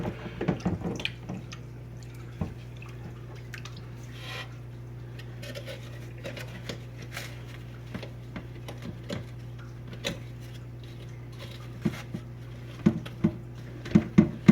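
Foam filter media from a Fluval 306 aquarium canister filter being rinsed in water, giving faint splashes, drips and light irregular ticking over a steady low hum, without talk.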